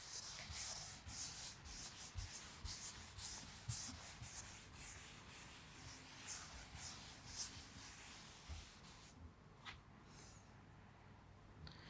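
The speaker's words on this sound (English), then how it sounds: "So, I am rubbing this particular diagram." A diagram is wiped off a board, giving soft, continuous scrubbing and rubbing strokes that stay faint and uneven throughout.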